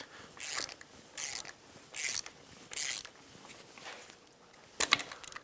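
A hand ratchet under heavy torque loosens bolts on a Yamaha YXZ1000R engine during teardown. It makes several close bursts of rapid clicking with short pauses between strokes, then a sharper metallic clatter at the end, with no talking.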